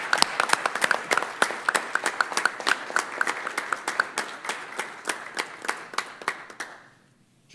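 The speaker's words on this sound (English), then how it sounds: "Please give them another round of applause for being there for all of us." Applause at a city council meeting for 911 center staff, a small crowd clapping with distinct individual claps, steady then thinning out and stopping near the end.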